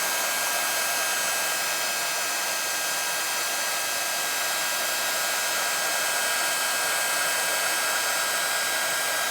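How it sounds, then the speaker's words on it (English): A handheld embossing heat tool blows hot air in one steady, loud, unbroken whine and rush lasting the whole stretch, close by with no talk. "start embossing and heat it up and then work your way round"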